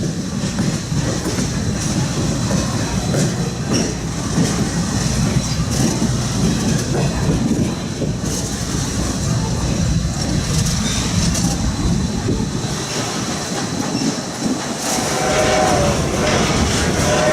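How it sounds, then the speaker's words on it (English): A Delaware River Railroad passenger train rolls out of the station, its steady rumble and rhythmic wheel clatter loud and continuous throughout, with faint higher squeals and metallic clicks over the running noise. "As our train pulls out of the station"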